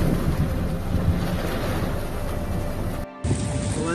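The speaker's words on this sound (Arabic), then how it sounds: "عواصف رعدية شديدة" A severe thunderstorm with heavy rain and strong wind in Jazan, Saudi Arabia, roars as a loud, steady rush of wind and rain buffeting the microphone, broken by a brief dip near the end before the rush resumes.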